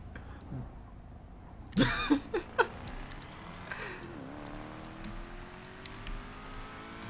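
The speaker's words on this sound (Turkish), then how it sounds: "Araba pati yapmadan kalkmıyor benimki ya." An Audi RS performance car with quattro drive sits on snow with its wheels spinning. A few sharp thumps come first, then a faint engine note climbs steadily as it revs.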